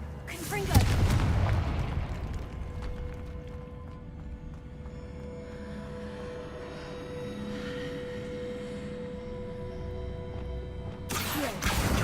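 Confringo blasting spells in Hogwarts Legacy: a sharp, booming explosion bursts out near the start and another hits at the end, with low rumbling game ambience between them.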